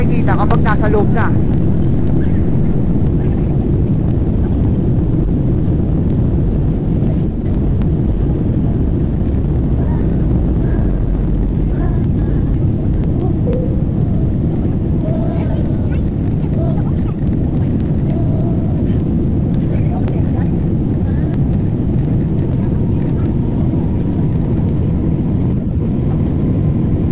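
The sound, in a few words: airplane cabin during departure to Manila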